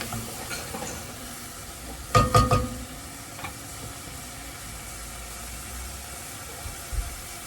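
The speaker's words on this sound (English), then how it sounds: "Stir it really well." A spoon stirs tomatoes for shakshuka in a pan, giving a short burst of quick scraping clacks over a steady, faint sizzle, then a few soft taps later on.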